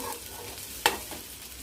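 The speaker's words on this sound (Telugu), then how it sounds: "రాజ్మా కూడా ఫ్రై చేస్తాను" Rajma (kidney beans) sprinkled with salt, chili powder and turmeric frying quietly in a pan, a soft steady sizzle broken by one sharp utensil clink midway.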